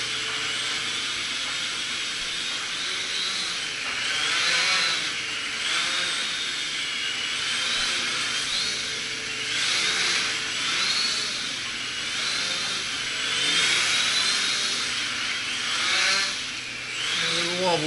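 A broken X1 drone hovering indoors gives a loud, steady high-pitched buzzing whine of small spinning rotors, with slight wobbles in pitch and level throughout, close by and without talk.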